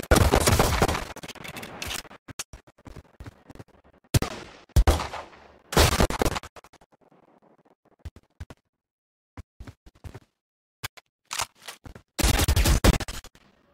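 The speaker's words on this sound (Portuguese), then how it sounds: "Agora atira naquele alvo voador" Gunfire in Valorant aimed at a flying target, loud bursts of rapid shots separated by short silences, with a few isolated single cracks in between.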